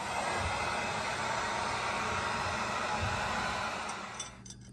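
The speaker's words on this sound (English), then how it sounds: "I'm gonna grab my heat gun" A heat gun blows hot air to shrink tubing over electrical wiring for a relay and fuel pump, a steady, close, loud whooshing roar that runs continuously, then drops away as it shuts off at the end.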